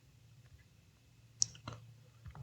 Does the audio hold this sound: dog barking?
no